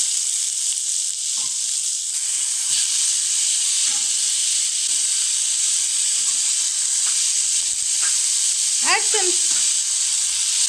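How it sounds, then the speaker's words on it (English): Chopped onions sauté in a teaspoon of oil in a pan after minced garlic was fried golden, giving a steady close sizzle and hiss throughout, with a few faint stirring scrapes and a brief squeal near the end. "Excess oil from the pan and then add 1 teaspoon oil and then chopped onions."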